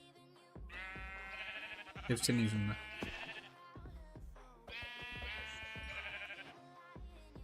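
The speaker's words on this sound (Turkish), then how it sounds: "Şey gri koyun mu olur?" Grey sheep in the video game Minecraft bleat in two wavering, harmonic bursts, near and fairly loud, with a person talking over part of it.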